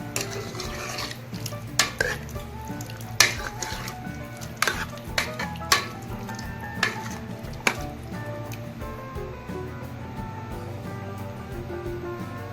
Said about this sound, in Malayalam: ഇതിലേക്ക് ആവശ്യമായിട്ടുള്ള ഉപ്പും കൂടി ചേർത്ത് കൊടുക്കാം. നന്നായി ഒന്ന് മിക്സ് ചെയ്തെടുക്കാം.